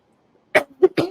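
A man coughs with a chesty, lingering cough, three harsh close bursts in quick succession after a short silence.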